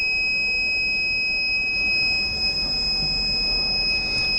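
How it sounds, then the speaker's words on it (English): A solar grid monitoring system sounds its over-temperature audible alert, a thin continuous high-pitched electronic tone held steadily throughout over a constant background hum and hiss, with no talk. "whenever the temperature crosses the 40 degrees centigrade, then the system will provide us the audible alerts"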